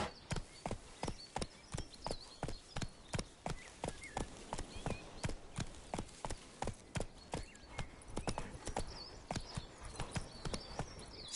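Hooves of Roach, the horse in The Witcher 3, galloping steadily, a rapid, regular clip-clop of close, distinct hoofbeats that continues throughout.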